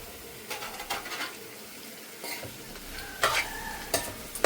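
Marinated fish pieces being gently stirred into a frying fish curry: a continuous soft sizzle with intermittent scraping and clinking strokes of the utensil, growing a bit louder toward the end.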